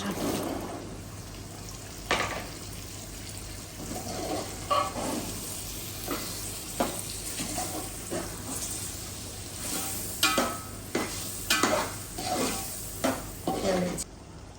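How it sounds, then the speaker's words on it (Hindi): Boiled white chickpeas frying in roasted masala, a 1 kg batch in a large pot, with repeated scraping stirs and clatter over a steady sizzle, strokes growing busier toward the end, no talk. "ये देखिए माशाल्लाह से चने भून चुके हैं"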